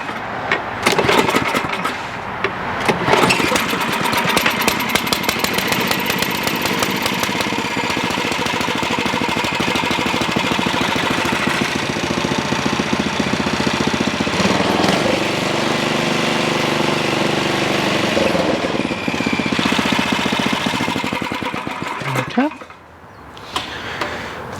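An Ariens 11528 snow blower with power steering starts up and runs, its small engine catching quickly and then roaring loud and steady for a long stretch, close by, before cutting off near the end and briefly restarting.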